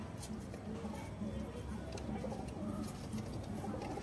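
Pigeons coo in low, repeated throaty phrases, fairly soft and steady, with murmured human voices and general background noise around them.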